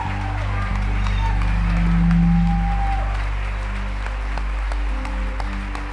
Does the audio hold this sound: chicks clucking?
no